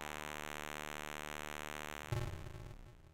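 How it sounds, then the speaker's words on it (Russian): A loud, continuous electronic alarm buzzer with a harsh, sustained tone for about two seconds. It then shifts abruptly into a rougher, fading burst of noise. "вы ставите шумящую сигнализацию, если вы ее не слышите"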